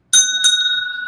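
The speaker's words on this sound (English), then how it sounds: "That's my BS bell." A small bell is rung as a joke "BS bell", two quick bright strikes that leave a clear ringing tone fading away on its own.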